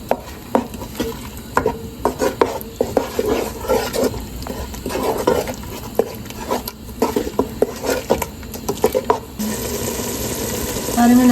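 A spoon scrapes and knocks through a tomato and cashew masala in a pot for aloo gobi curry, in repeated rhythmic strokes over a low sizzle. The stirring gives way to a steadier frying hiss near the end.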